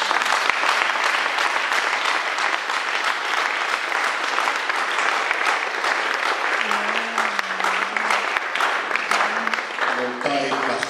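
Sustained applause from a church congregation at an Easter celebration service, dense and steady clapping filling the space throughout, with a faint voice or tone briefly emerging near the end.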